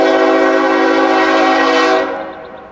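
A Norfolk Southern freight train at a grade crossing near a siding sounds a loud, sustained multi-tone horn that cuts off about two-thirds through, leaving the rumble of the slowing train fading.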